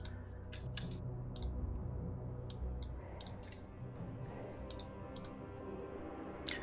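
Computer keyboard typing and mouse clicking during a World of Warcraft gaming session, with faint scattered key taps and clicks over a steady low background hum, no talking.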